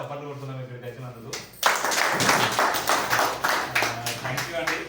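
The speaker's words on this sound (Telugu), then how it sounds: "మళ్ళీ పాత ఒకసారి మనం చప్పట్లు కొడుతున్నాం ఇక్కడికి వచ్చినందుకు" An audience bursts into dense, sustained clapping at a farmers' gathering. The applause starts abruptly after someone speaks briefly and continues steadily to the end, with a voice murmuring underneath.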